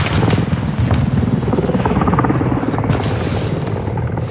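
A military helicopter in a video game under missile attack as flares fire, a dense, loud roar of rotor and engine with booming bursts filling the whole stretch.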